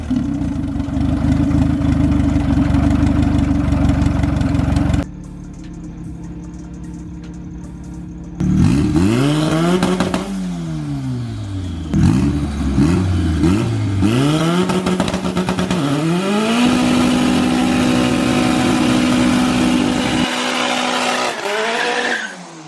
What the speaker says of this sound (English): So we're gonna put it in the back, so when I do this burnout, I'm not burning good tires.